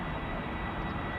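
A KLM Airbus A330-200 bound for Kigali at Amsterdam Schiphol gives off a steady, broad jet roar that holds at a constant level throughout, with no talking over it.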